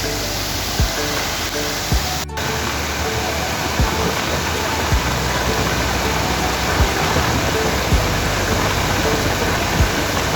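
Muwa waterfall pours down in a steady, loud, close rushing roar of falling water, with occasional faint thumps beneath the constant wash.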